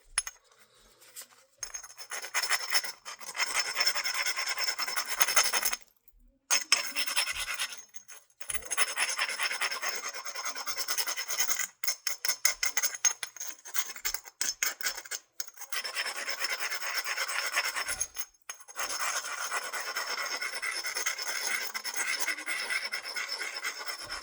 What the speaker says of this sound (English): I need to grind this down.